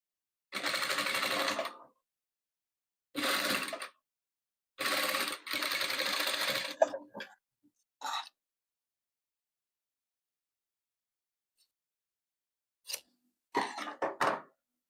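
Sewing machine stitching red velvet patchwork, several short runs of fast steady needle chatter separated by silences, followed by a few brief clicks and handling knocks, close and fairly quiet.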